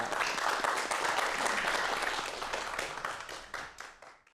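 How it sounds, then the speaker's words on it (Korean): A Korean television talk-show studio audience applauds in a dense, bright wash of clapping that holds steady, then thins and fades out over a few seconds. "오늘 함께해 주신 두 분에게 여러분 큰 박수 부탁드리겠습니다"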